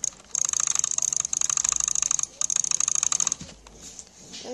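Rapid bursts of sharp clicking from a gaming mouse for shooter games, close and crisp, coming in several quick runs with brief pauses between them.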